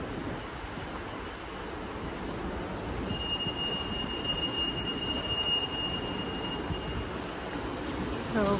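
A steady rumble of a Heathrow Airport terminal shuttle train in motion, with a thin wheel squeal rising briefly midway; no talking.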